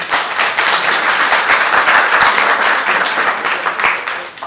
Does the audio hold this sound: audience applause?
yes